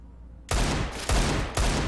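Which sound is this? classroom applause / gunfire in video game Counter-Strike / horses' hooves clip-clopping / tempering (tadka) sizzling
gunfire in video game Counter-Strike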